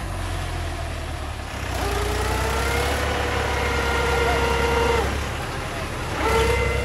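A tractor engine labours while off-roading through thick mud on a dirt track, its steady low rumble rising and falling in revs with whining tones across several pushes, loud and close, with people talking and shouting nearby.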